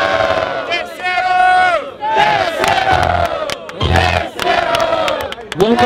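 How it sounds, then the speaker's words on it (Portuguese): A crowd at a freestyle rap battle, Batalha do Tanque in São Gonçalo, roars with loud cheering and shouted battle cries in repeated surging waves, close and dense, filling the whole stretch. "Barulho quem gostou da rima do freestyle de Johnny Jones e Toys"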